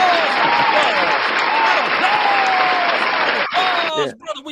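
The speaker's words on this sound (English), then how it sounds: "Round of applause." Studio audience applauding a guest at a live mock draft event, steady dense clapping with voices over it, breaking off abruptly near the end.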